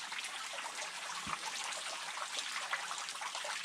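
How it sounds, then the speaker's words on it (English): Small stream trickling at the Dripping Well in Hastings Country Park, a faint, steady wash of running water with soft drips and gurgles, continuous and even, with no voices. "It just runs off into a tiny little stream."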